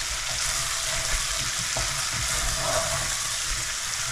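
Onion frying in a pan, a dense continuous sizzle close up with faint stirring scrapes mixed in.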